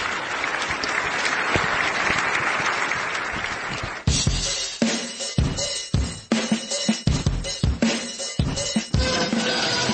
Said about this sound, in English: big round of applause for Neil Ellis.